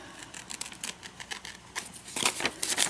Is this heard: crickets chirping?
no